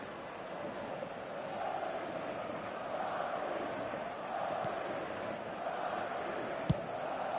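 Stadium crowd noise in a football video game forms a continuous broad roar that swells gently, with a faint sharp knock near the end.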